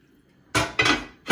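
A metal cooking-pot lid set onto a pot of boiling chicken soup, three sharp close clanks in quick succession with a short ringing after each.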